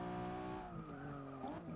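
Ferrari 599 GTO braking hard in the Forza 6 racing game, with a loud, steady engine drone that shifts pitch as the tires squeal under heavy deceleration.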